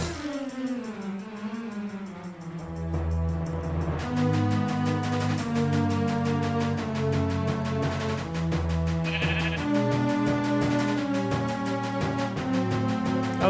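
Sheep bleating inside a video game, set over continuous, loud, tonal game music that runs throughout, with the bleats mixed into the soundtrack rather than standing alone.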